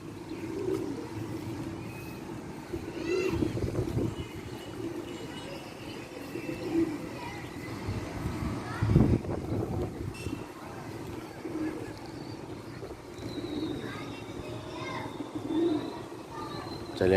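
Domestic pigeons coo in a continuous low throb at a Karachi rooftop where a flock has just been released to fly, with wind-like rumble and a voice at times.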